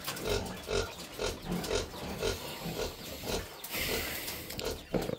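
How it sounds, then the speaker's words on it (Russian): Four piglets feed at close range on a farm, giving repeated soft grunts and snuffling chewing noises in a steady rhythm. A brief hiss of noise comes near the end. "Видите, 4 поросенка едят."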